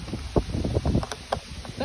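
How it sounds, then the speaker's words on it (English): Gusty wind buffets the microphone in low, rumbling bursts, loud and close, with a faint airy hiss above. "It's a windy day today."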